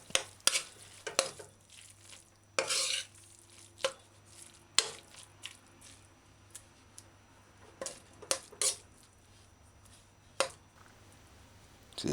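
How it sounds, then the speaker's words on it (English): Soy mince sloppy joe mixture simmering on low in a pan, with repeated sharp scrapes and clicks of a spoon stirring against the pan over a faint steady bubbling and low hum, close and without talk. "So you just cover it back and allow it to simmer."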